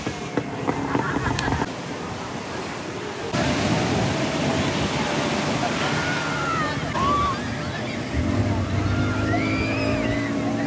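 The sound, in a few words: boat ride on the sea at Shivrajpur beach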